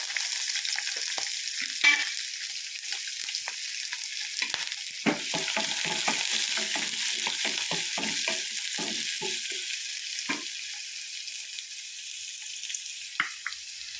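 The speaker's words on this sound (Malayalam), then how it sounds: "ആദ്യം ഉള്ളി പച്ചമുളകും കൂടെ വഴറ്റുക." Sliced onion and green chilli sautéing in a pan for a Kerala prawn and ivy gourd theeyal make a steady bright sizzle, broken by a run of stirring scrapes in the middle, close and loud with no talking.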